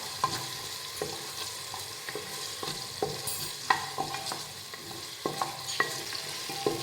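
Grated ginger sautéed with tomato in a pan for spicy aloo bhat, giving a steady soft sizzle broken by sharp scrapes and clacks of a spatula stirring, close and alone without talk.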